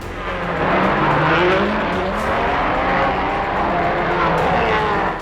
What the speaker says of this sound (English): Number 7, so often his lucky 7, careered off the track.